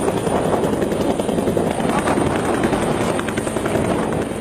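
An army helicopter flies in carrying commandos during a counter-terror drill, its rotor producing a loud, close, continuous thudding roar that fills the whole stretch without letup and with no voices.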